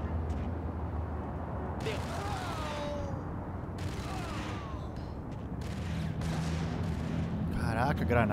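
Bursts of gunfire from the shooter game Max Payne crack and boom repeatedly, loud and close, mixed with in-game effects and a voice speaking over the shots.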